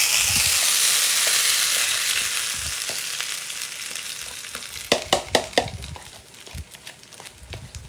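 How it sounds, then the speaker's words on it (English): Hot grease sizzles steadily with a broad hiss, fading a little, then a few sharp crackles and pops near the end, with an egg cooking in it. "Check out the sizzle."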